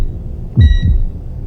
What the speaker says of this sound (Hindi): दिल की धड़कन वापस आ चुकी थी।